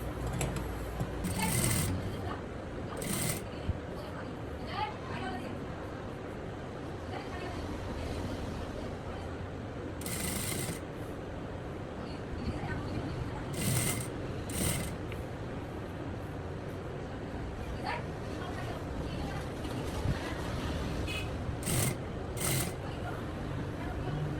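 A sewing machine stitches a frill on a layered skirt in short repeated bursts, with someone talking over and between the runs.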